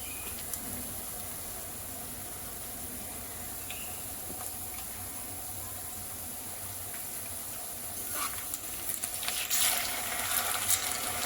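Onion and green chillies frying in a home kitchen pan, a steady close sizzle throughout that grows a little louder and brighter toward the end.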